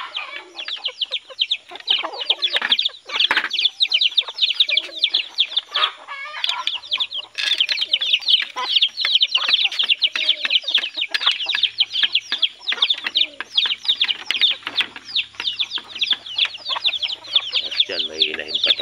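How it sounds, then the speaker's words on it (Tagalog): Yellow-legged bantam chickens, including a veteran bantam rooster, cluck and chirp busily and almost continuously, with a few bursts of wing flapping, fairly loud and close, with no talk. "yung kauna-unahan kong pangating veterano na yellow legs na bantam"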